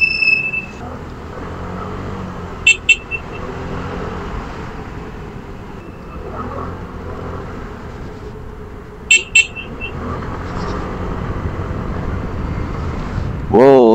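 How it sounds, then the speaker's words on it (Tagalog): Dense road traffic rumbles around a motorcycle rider in Antipolo, Rizal, with a constant engine drone. Two separate pairs of short car-horn toots sound nearby, and a voice talks now and then. "Oo, sobrang traffic to."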